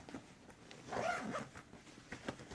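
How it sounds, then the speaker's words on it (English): A zipper on an Oakley Breach range bag is pulled shut in one short, quiet scratchy run, close up with no talk over it. "go ahead and zip these up"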